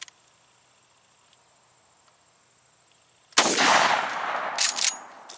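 Shotgun shells being fired outdoors: after about three seconds of near silence with a faint steady insect-like whine, a loud, close blast breaks in, followed by further sharp reports and ringing noise through the rest of the clip.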